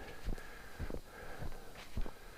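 A person sniffling repeatedly at a backpacking campsite in cold weather, four or five short, close nasal sniffs spaced about half a second apart over a faint steady background hum.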